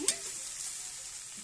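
Ridge gourd and onions frying in a pan for beerakaya curry, a close, steady sizzle with a quick stirring clatter at the start, no voices.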